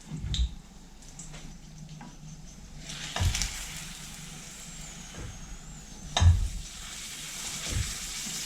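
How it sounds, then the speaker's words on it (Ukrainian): Oil sizzles continuously in a pan as Moldovan plachinda pastries filled with raw cabbage and raw potato fry, with a few louder knocks and clatters of utensils scattered throughout. "дамо олії розігрітися та будемо обсмажувати плаченди."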